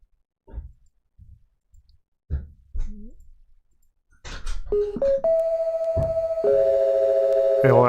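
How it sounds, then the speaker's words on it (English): Tape-style distortion effect on a synth in a sound design patch, adding crackle, clicks and pops: sparse plucked blips with gaps, then a sustained stepping synth tone with gritty clicks layered over it. "it will add some little bits of distortion and like clicks and pops depending on what setting you have it on"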